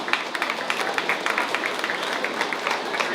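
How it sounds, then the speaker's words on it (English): Audience clapping fills a 4-H poultry show ring at a county fair, a steady, moderately close patter of many hands with a few sharper claps standing out. "Give them all a great big round of applause."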